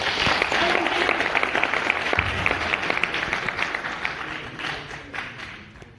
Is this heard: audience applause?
yes